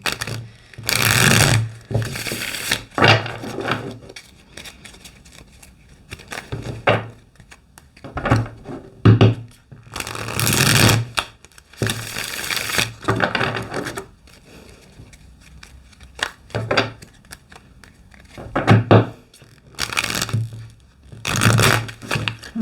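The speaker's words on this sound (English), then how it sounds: "Clearly I can't shuffle. Look at that. The cards don't want to behave." Tarot cards are shuffled clumsily, making repeated close bursts of riffling and slapping in irregular clusters with brief gaps between them. No voices are heard.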